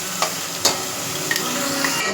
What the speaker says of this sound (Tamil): இதை வந்து இந்த பேஸ்ட்டை இப்போ இதில் கலக்கிறோம்